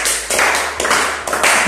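A short burst of audience clapping at a seminar in Burkina Faso, loud and close, arriving in a few uneven waves.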